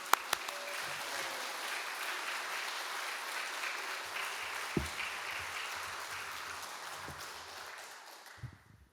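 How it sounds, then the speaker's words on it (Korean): A church congregation applauds in welcome of a visiting missionary, dense, steady clapping at a fairly low level that slowly fades near the end, with a few faint low thumps. "우리 할렐루야 박수로 크게 환영하겠습니다."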